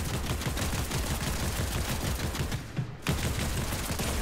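Fortnite gunfire, a continuous loud rattle of rapid shots with a brief dip near the end before the firing resumes.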